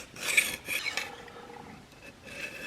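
A four-blade Zwickey-style broadhead with bleeder blades is stroked across a 400 grit stone, producing close, gritty metallic scraping in short repeated passes with slight rhythmic rasping.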